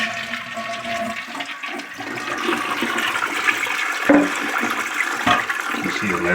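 A Mansfield toilet flushes after its tank lever is repaired: a loud, steady rush of water swirls and drains for several seconds, with gurgling swells near the end and no talking.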